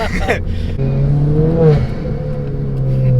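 A 310 bhp Ford Fiesta ST, turbocharged, pulls hard under acceleration: a loud, steady engine drone rises in pitch with boost, heard from inside the car as someone talks over it.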